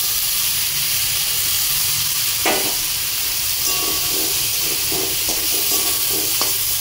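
Diced potatoes sizzle and fry in a hot pan with ginger and tomato for a vegetarian vegetable dish, a steady loud hiss with a few clinks and stirring scrapes throughout.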